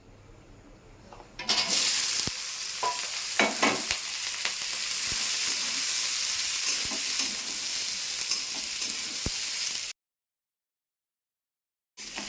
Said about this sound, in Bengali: এবার এই তেলে দিয়ে দেবো এই সবজিগুলো ভেজে নেবো